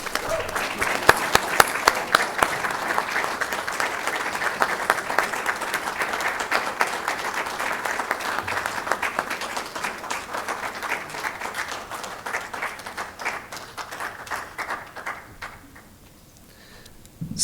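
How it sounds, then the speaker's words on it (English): An audience at an academic session on human-environment relations applauds after presentations with dense, sustained clapping that carries on for many seconds before thinning out and fading near the end. "applause."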